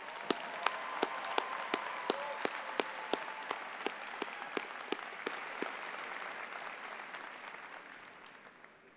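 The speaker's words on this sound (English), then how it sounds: "Let's give Joe another round of applause." Applause rings out at a university commencement ceremony, many hands clapping steadily, with a few sharp nearby claps standing out before the crowd slowly fades.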